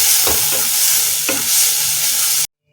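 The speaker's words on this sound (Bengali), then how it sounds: "দিয়ে এবার আমি এটাকে ভালো করে কষাতে থাকবো।" Spice masala for rajma curry sizzles loudly in a hot pan while a spoon stirs it in a few scraping strokes, then the sound cuts off abruptly.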